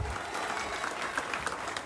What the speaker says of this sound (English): Big applause pour les magiciens du restaurant Les Cotomiers, Monsieur Jan Braai.